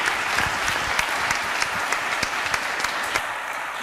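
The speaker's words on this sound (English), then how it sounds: "while we're all applauding" Sustained audience applause at the close of an academic scientific meeting, dense, even clapping from a large crowd with a few sharper individual claps standing out, continuous throughout without talk.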